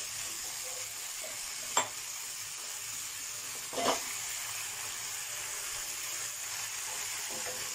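Basil chicken stir-fried in a pan without oil, a steady soft sizzle running throughout with two brief scraping knocks of the spatula against the pan, close by and with no voices.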